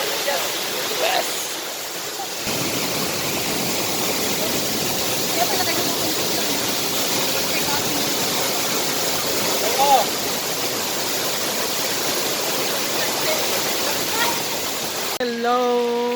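Sicao Falls pours in a constant, loud, hissing roar of falling water heard close by, continuing steadily throughout, with brief voices near the start and end.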